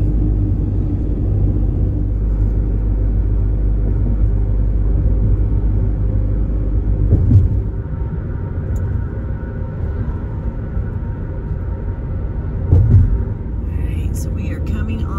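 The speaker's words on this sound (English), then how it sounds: "First key that we drive onto is Key Largo." A car drives onto Key Largo with a steady, loud low rumble of engine and road noise heard from inside the cabin, broken by a couple of brief bumps, while a voice talks faintly underneath.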